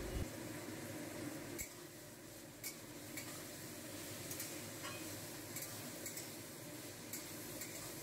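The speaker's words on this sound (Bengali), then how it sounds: "এবার সবজিগুলো ভালো করে ভেজে নেওয়া হবে" Vegetables with a little salt being stir-fried in a kadai for a flattened-rice biryani, giving a quiet, steady sizzle broken by soft scraping and stirring clicks.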